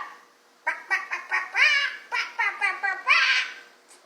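A child imitates a chicken with a quick run of squawking, clucking vocal bursts, close and fairly loud, about a dozen short choppy calls in rapid succession.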